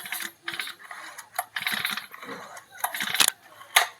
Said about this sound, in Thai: ลานสตาร์ทลองดึงดูครับ